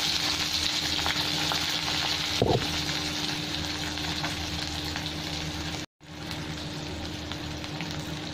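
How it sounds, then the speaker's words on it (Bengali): Chopped onions fry in a pan with hing and green chilli, giving a steady quiet sizzle throughout, with a brief clink near the middle and a momentary dropout later. "এখানে আমার পেঁয়াজটা ভাজা হয়ে গেছে"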